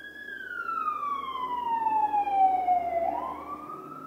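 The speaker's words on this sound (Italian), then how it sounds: "Sì, era l'ambulanza dei vigili del fuoco." A fire brigade ambulance siren passing by outdoors, one loud wailing tone sweeping slowly downward, then rising again near the end over low traffic rumble.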